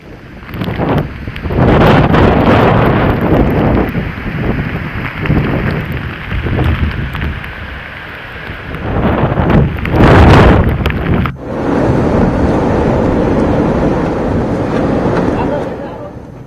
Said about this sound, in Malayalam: ഒഡീഷയിലും പശ്ചിമബംഗാളിലും കനത്ത കാറ്റും മഴയുമാണ്.